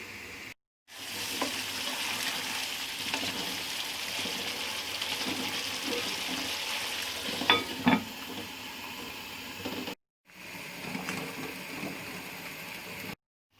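A curry of browned onion and ground yogurt simmers on very low heat, giving a soft steady sizzle and bubbling with a couple of brief utensil clinks, broken by short silent cuts.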